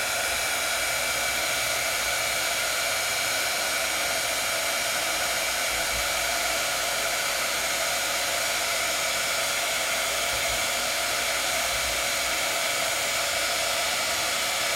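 A heat tool, like those used for embossing, blows hot air to melt wax for wax seals, making a steady, loud whooshing hiss that runs unbroken throughout with no talking.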